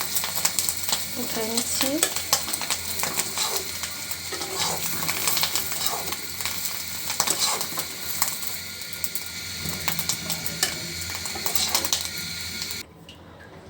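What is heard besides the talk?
egg frying and sizzling in a pan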